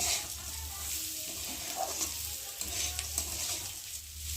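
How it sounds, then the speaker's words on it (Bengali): Spiced rice fries in a pan while being stirred continuously to keep it from sticking, a soft steady sizzle with faint scraping strokes, moderately quiet and close, no voices. "দিয়ে চালটাকে একটু ভালো করে ভেজে নেব যাতে না তলায় লেগে যায়"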